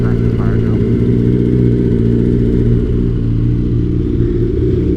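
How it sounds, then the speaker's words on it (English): A turbocharged 2006 Suzuki Hayabusa motorcycle engine rumbles loudly and steadily up close with a deep low drone, while a person talks over it throughout. "The Turbo Hayabusa does not feel like a normal motorcycle at all"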